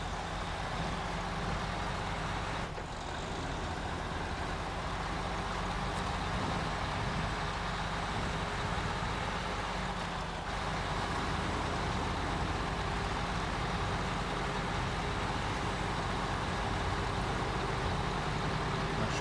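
A heavy truck in the off-road driving game Snowrunner rumbles steadily as it drives, a constant low engine drone with a couple of faint clunks, no talking.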